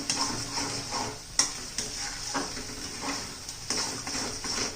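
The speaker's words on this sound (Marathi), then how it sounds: "हा माझा फिश मसाला आहे. ते पण छान असं तेल सुटेपर्यंत परतून घ्यायचं आहे आपल्याला." Fish masala sautéed in oil for a spicy prawn curry makes a soft, steady sizzle broken by periodic spatula scrapes and taps against the pan.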